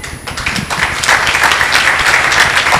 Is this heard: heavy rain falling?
no